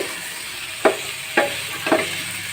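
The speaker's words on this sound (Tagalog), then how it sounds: "Halo-haloin nyo lang siya para ma-fry. Ayan. Gisa-gisa lang siya." Chopsuey vegetables stir-fried in a pan, a steady close sizzle broken by three sharp scraping stirs of a utensil at regular intervals, with no voices.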